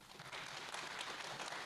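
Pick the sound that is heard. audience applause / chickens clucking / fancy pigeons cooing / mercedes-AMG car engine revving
audience applause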